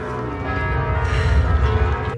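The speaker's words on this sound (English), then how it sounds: "the intro with the bells" Bells from the intro of a live song toll steadily and resonantly, sustained and full over a low music bed, with no talking.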